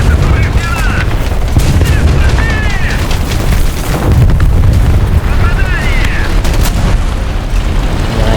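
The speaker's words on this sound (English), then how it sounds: "just gunned him down with machine gun fire pretty much" Loud combat sounds from a World War II tank video game with a KV-series tank: heavy booming shots and rattling machine-gun bursts layered over rumbling engine noise, with whistling shell sounds cutting through.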